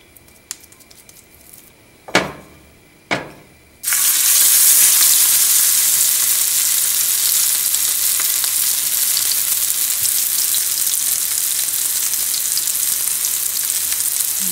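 Ground beef for chapli kabab is dropped into hot oil after a few soft knocks, and a loud, steady sizzle of frying follows for about ten seconds.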